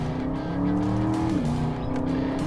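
A 2021 Aston Martin DBX super SUV hums along under steady engine load, a smooth continuous drone whose pitch dips slightly partway through as it drives.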